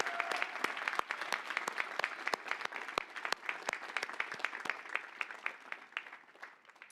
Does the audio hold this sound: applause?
yes